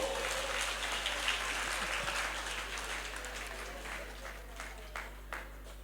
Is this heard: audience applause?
yes